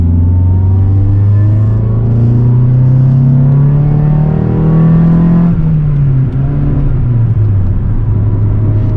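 A Honda Integra driven hard: the engine roars loudly from inside the car, its pitch climbing steadily, then dropping sharply at a gear change before pulling again, with no talking.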